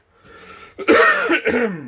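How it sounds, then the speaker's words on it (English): A single dry cough with a throaty rasp, close and fairly loud, followed by a shorter second hack. "Sorry about that cough."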